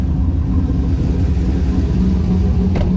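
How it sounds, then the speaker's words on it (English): A turbocharged GMC crew cab truck engine idles steadily, a loud, deep, even rumble that stays constant throughout with a brief faint tick near the end. "We're going to let the Turbo GMC run a little bit, let that turbo cool down"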